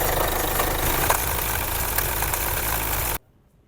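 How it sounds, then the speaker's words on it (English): A Mercedes-Benz car engine with a worn timing chain runs loud and close with a steady, rough mechanical roar, then cuts off abruptly near the end, leaving silence. "we're going to show you why it makes the noise when it starts"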